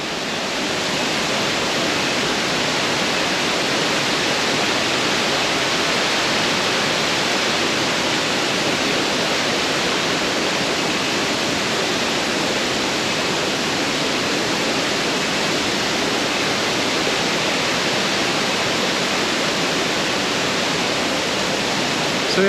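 The Sekumpul waterfall in Bali, Indonesia, roars as a loud, steady broadband rush of falling water that continues unbroken throughout.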